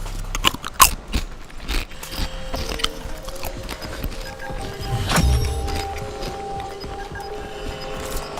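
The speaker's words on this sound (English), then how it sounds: "I'm just trying to eat my Doritos" Crunching bites of Doritos chips, a few sharp close crunches near the start followed by softer chewing over a faint background hum.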